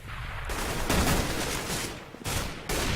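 Dense crossfire of rapid gunshots in a Counter-Strike: Global Offensive match between Fnatic and TSM, loud and continuous bursts overlapping with only brief dips, with no talk over it.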